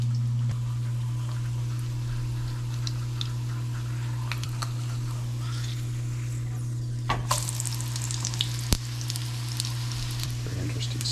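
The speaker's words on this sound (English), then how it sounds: "let's fry it up" Steady sizzling of breadfruit slices frying in hot oil, with a constant low hum underneath and occasional small clicks and pops.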